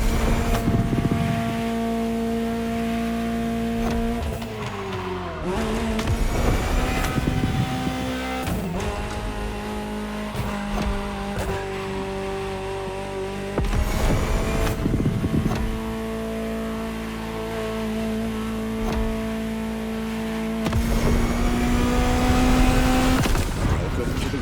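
A Ferrari engine in the racing game The Crew Motorfest revs and holds steady tones through repeated gear shifts, rising and dropping in pitch over a long continuous run, loud and close.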